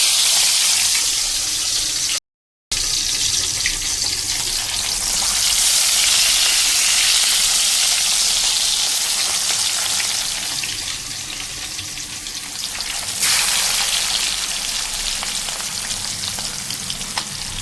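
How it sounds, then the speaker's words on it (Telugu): Fish pieces frying in hot oil in a village-style kitchen give a loud, steady sizzle and hiss that swells and eases as pieces go in, with no talking. "నూనె కాగుతుందండి, బాగా కాగిందండి. ఇప్పుడు దీంట్లోకి ఒక్కొక్క పీస్ వేద్దాం."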